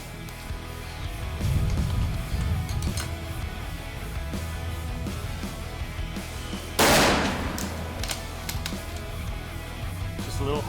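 A single loud, sharp rifle shot from a long-range precision rifle fired off the side of a tire outdoors, cracking out midway through a stretch of low background rumble and then echoing away.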